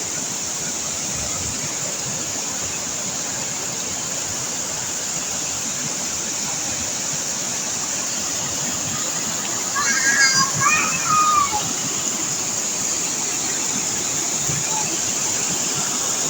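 Little Baguio Falls in Bacuag, Surigao del Norte, Philippines, heard as a steady, loud rushing roar of falling water that fills the whole stretch, with brief voices rising over it partway through.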